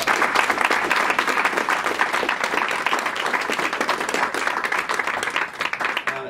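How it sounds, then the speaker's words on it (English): Audience applauding at a women's college golf state championship ceremony at Morro Bay Golf Course: sustained, fairly dense clapping with sharp individual claps showing through, holding steady throughout before easing slightly at the end. "So let's give them all a round of applause."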